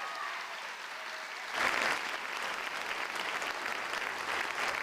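A crowd at the Canyons School District Teachers of the Year celebration applauds a school band for opening the show, the clapping swelling suddenly after a quieter room hum and then holding as a steady, dense wash of hands.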